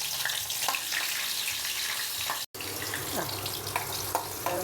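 Fish fries in hot oil with cut green chillies, a steady close crackling sizzle with small pops, briefly broken by a short cut in the middle; no talking.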